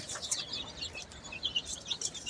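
Chicken chicks peeping in a backyard coop, a few thin high chirps in quick scattered bursts, faint and close with low background noise.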